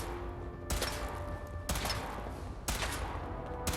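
A weapon fires three sharp, evenly spaced blasts in a video game, each about a second apart and trailing into a brief ringing decay over a low, steady background hum.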